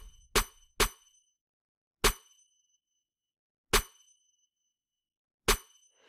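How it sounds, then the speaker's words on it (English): A layered snare drum blended with long-release chimes and a clap strikes five times at uneven intervals, each hit tight and bright with a shimmering, ringing tail fading into silence. "the chimes become more of just like an ambience reverb of the snare, and the snare's a bit more tight"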